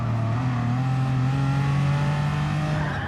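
A Gran Turismo Sport race car engine drones steadily and loudly throughout, its pitch holding and shifting slightly with no talk over it.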